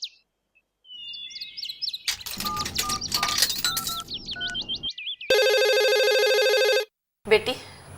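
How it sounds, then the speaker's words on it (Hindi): An electronic phone ring, a steady buzzing tone lasting about a second and a half, follows chirpy birdlike tones and clattering; a brief voice comes after. "बेटी तनी देखा तो केकर फोन है।"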